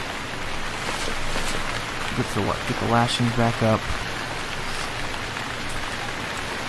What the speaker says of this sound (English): Oh, it's raining again.